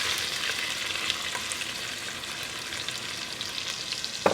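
Onion and garlic sizzle and fry steadily in a pan for braciole, a continuous close hiss with occasional small pops and a brief stirring clatter near the end.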